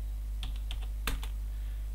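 Short burst of computer keyboard keystrokes entering an Alt+G shortcut in the Spacemacs editor, a handful of close, crisp clicks grouped in two quick clusters over a steady low hum, no talk.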